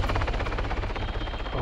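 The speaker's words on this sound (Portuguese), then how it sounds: "Passando o helicóptero." A helicopter passes by in ARMA 3, its steady low rotor thump and engine drone filling the short stretch at constant loudness.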